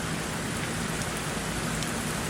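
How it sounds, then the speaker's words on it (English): Heavy rain pours down in Ottawa, Canada, a dense, even hiss of drops striking surfaces, steady and unbroken throughout. "Check the melodious, awesome sound of the rain."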